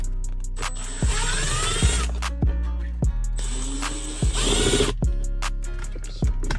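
Someone works out bolts from the center console of a 2007 Ford Mustang with a ratchet or small power tool. Two longer whirring runs mix with repeated sharp clicks and knocks, close by.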